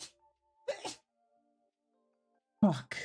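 A person sneezes once, loudly and close, right at the end, after a short spoken exclamation earlier and a quiet pause.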